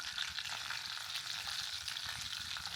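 Cumin seeds sizzle and crackle in hot oil with mustard seeds already popping, a steady near frying hiss with small scattered pops, no talk.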